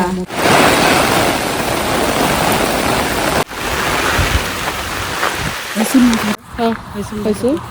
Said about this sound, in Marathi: पाऊस येता मोठो